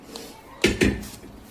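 Chopped chillies, cabbage and potatoes tip into a pressure cooker pot, giving two quick, close clattering knocks of metal about a fifth of a second apart against a quiet kitchen background.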